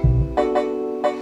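Beat instrument with a long tail, left without a transient processor: a low thump opens, followed by a sustained ringing tone and a few soft repeated hits over about a second.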